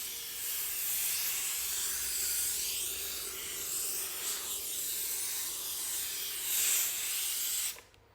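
A continuous loud hiss of steam jets out of a Laurastar IGGI handheld steamer for several seconds, wavering slightly in pitch, then cuts off abruptly near the end.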